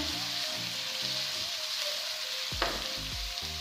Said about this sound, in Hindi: हाफ मिनट के लिए 30 सेकंड के लिए इनको हमने कस में फ्राई कर लेना है